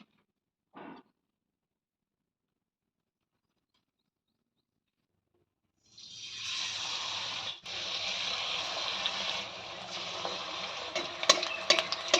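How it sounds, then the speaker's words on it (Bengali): Batter-dipped eggs frying in hot oil in a kadai: after a near-silent stretch with one brief knock, a loud, dense sizzle bursts in and continues steadily, with a few sharper crackles and pops toward the end. "এবার আমি একে একে সব ডিমগুলো ভেজে নেব"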